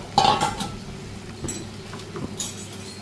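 A utensil scrapes and clinks against a pan as potatoes and papaya are stirred into curry masala. The bursts are close and irregular, with a louder scrape at the start and softer stirs after.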